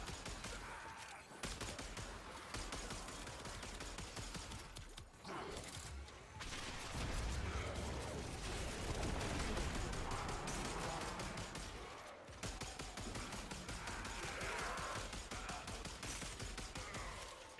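Video game gunfire in a Warframe-style shooter, bursts of shots and booms running through the whole stretch at moderate level, mixed with game effects and occasional background voice.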